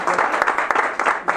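Brief burst of audience applause at a charity golf tournament media conference, quick clapping in short pulses heard close and fairly loud.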